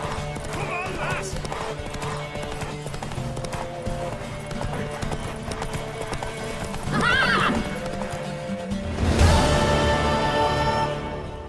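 Hoofbeats clatter in a steady run with music and shouting, then a horse whinnies loudly near the end over a swell of sound, from a mare galloping in the video game The Witcher 3.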